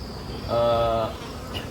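A bee buzzes briefly and close by at a bee farm, a single humming drone lasting about half a second over a quiet background hum.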